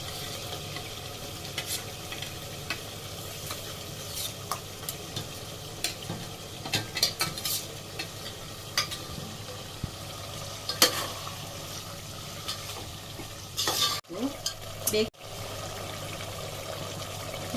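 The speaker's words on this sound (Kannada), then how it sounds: "ಇದು ಎಣ್ಣೆಲೆ ಫ್ರೈ ಮಾಡಬೇಕು, ಮಸಾಲೆ ಹಾಕಿ" Ginger, garlic, cinnamon, cloves and cardamom frying in oil while being stirred, a steady sizzling hiss with repeated spoon scrapes and clinks against the pan, nearby and without talk.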